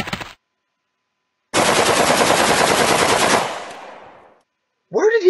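Rifle fire in a video game: a loud, sustained burst of rapid automatic shots lasting about two seconds, tailing off into a decaying echo, with brief bits of other game sound before and after.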